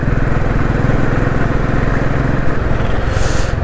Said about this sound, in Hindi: फट फुट कर रहा है उसका बाइक।